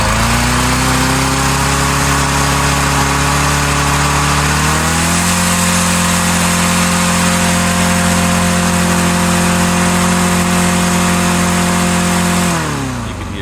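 A small lawn equipment engine with an auto choke runs loud and close at high RPM, its pitch rising and then holding steady before it drops off at the end.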